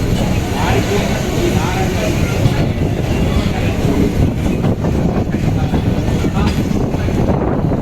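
A JCB express train pulls into platform two at Nagercoil Junction after rain, a loud continuous rumble and rolling clatter close by, with people talking over it.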